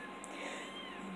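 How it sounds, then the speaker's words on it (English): Five-week-old kittens in a pen give a brief, faint meow in the background of a quiet room. "the sounds you hear in the background are our little 5-week-old kitty cat babies"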